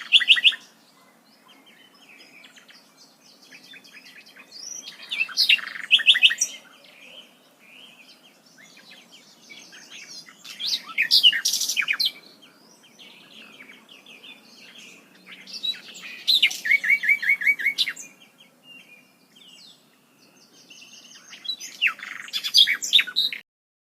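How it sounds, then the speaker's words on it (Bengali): Birds in a Bangladeshi village chirp and tweet in bright bursts separated by quiet gaps, several clusters of calls over a faint background hum, with no talking. "আমাদের পাঁচগ্রামের পাখির অনেক একটু কিচিরমিচির আপনাদের সবাইকে শোনাই।"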